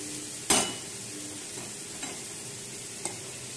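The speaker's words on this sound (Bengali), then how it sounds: "একবার নাড়াচাড়া করে দিলাম" Fish curry stirred in a pan over a quiet, continuous sizzle, with one sharp scrape of the utensil near the start and a couple of fainter taps later, close and otherwise calm.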